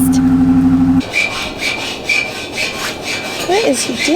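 Hand scraping and rasping in repeated strokes, like a saw or file working through material, close by after a brief engine hum cuts off.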